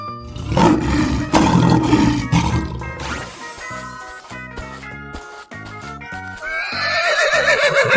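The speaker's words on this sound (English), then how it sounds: "Lion." A 3D animal video game plays a loud lion roar, followed by musical chimes and a horse whinny, with upbeat game music throughout.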